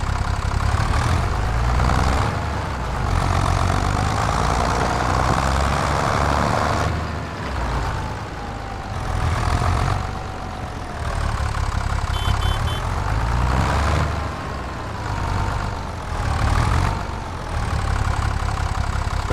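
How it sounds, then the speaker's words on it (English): A Stara ST Max 180 tractor in Farming Simulator 25 idles with a loud, steady mid-pitched engine drone, its tone wavering slightly up and down, with no talking. "Nice little tractor."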